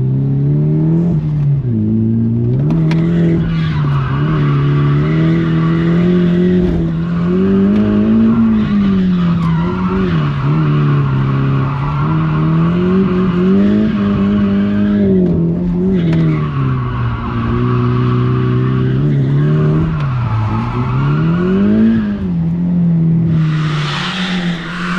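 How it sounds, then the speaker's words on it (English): A car drifting, its engine revving hard with rising and falling pitch while the tyres squeal loudly and continuously for the whole stretch. "Of course I'm going to drift the car."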